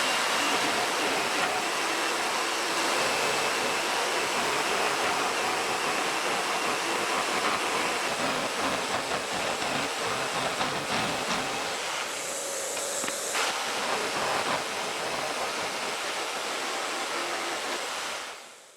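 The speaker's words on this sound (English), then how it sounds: "Now I need to cut it, and then I will trim it. That black tube is a makeshift vacuum system that I added to my benchtop jigsaw." A benchtop jigsaw cuts oak planks while a makeshift vacuum hose pulls away the dust, making a loud, steady rushing hiss for nearly the whole stretch. A brief change in tone comes near the end before the sound cuts off abruptly.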